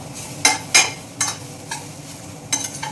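Tempering spices, including optional asafoetida, frying in a little oil while a spoon stirs them; five distinct scraping stir strokes stand out over a low steady sizzle, close and fairly loud, with no talking.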